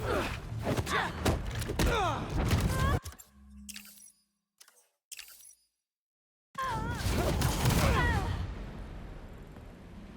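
Gunfire in the Marvel's Spider-Man 2 video game: a sharp burst of crackling shots with whooshes and impacts, then a near-silent gap broken by a few faint thuds, before dense loud action noise returns.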